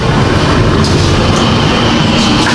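Inside a moving Sairang to Kolkata express train: a loud, steady rumble of the wheels and carriage continues throughout, with faint rhythmic clatter and no voices.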